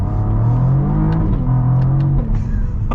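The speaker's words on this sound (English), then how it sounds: "we gotta get a fun acceleration here" A 2022 Cadillac CT4-V Blackwing accelerates, a deep, close engine drone rising in pitch through the gears with brief dips at the shifts, heard from inside the car with no talking.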